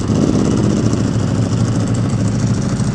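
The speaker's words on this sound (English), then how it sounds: "today we are gonna be riding the Superleggera again." A Ducati Superleggera V4 motorcycle engine rumbles loudly and steadily up close, a thick, continuous mechanical drone with no break.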